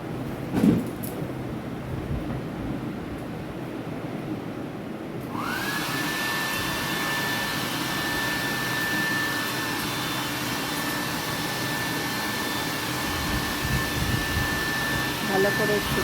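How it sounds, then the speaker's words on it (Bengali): A hair dryer switches on after a quiet moment and keeps up a steady, close whooshing whine while drying long hair, with faint rustling before it starts. "ড্রায়ার দিয়ে অর্ধেক শুকিয়ে দেবো"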